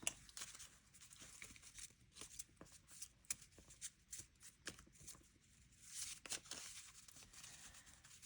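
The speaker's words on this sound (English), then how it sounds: "We'll mix them up a little bit." A deck of cards riffled and mixed by hand, a soft papery flutter with repeated crisp bursts and quieter rustling between them, close and fairly faint, no talking.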